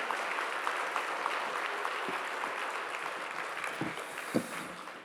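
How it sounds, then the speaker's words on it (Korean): A church congregation applauds together during an anniversary family worship service, giving a dense, steady, moderately distant wash of clapping that lasts several seconds and tapers slightly at the end. "여러분 다시 한번 축복의 박수로 함께 해주시기 바랍니다"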